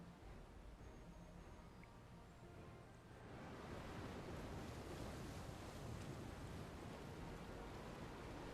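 Ocean waves and wind rushing past a sailing ship in Final Fantasy XIV, a steady broadband wash of surf that swells louder partway through, continuous and without talk.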